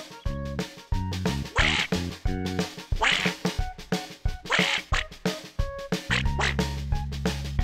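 A duck quacks repeatedly in quick, bright bursts, loud and close, alongside a tonal musical backing in a farm-animal setting.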